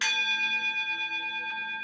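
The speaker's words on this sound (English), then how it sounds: "Oh, we need a bell." A single bell strike rings out clearly, a bright metallic tone with steady overtones that sustains and slowly fades over about two seconds, alone with no talk.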